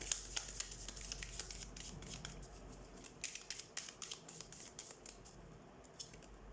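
Tarot cards are shuffled by hand, quiet close riffling and flicking in quick bursts of crisp snaps, alone without talk.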